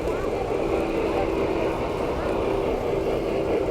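Two large articulated O scale three-rail model steam locomotives run at a club layout during a train show, giving a steady, continuous rumbling whir with a constant hum of crowd noise in the hall.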